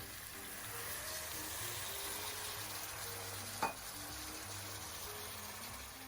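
Beets sizzle steadily in a hot pan as a little broth is added, a continuous close frying hiss with one brief sharp crackle partway through.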